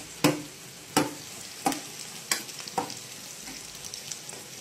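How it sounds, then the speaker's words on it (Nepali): Onion and karkalo fry in a pan under a soft sizzle, punctuated by about five sharp spatula scrapes and knocks at irregular intervals. "प्याज पनि फ्राई हुँदैछ।"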